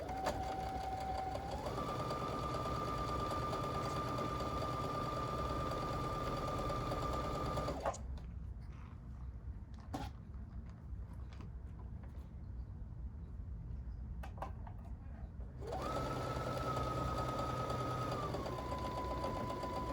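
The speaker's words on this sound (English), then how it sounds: "I'm going to sew on that other marked line." A sewing machine runs steadily along a marked line, its motor whirring loud and close, easing to a quieter, slower stretch in the middle before speeding up again.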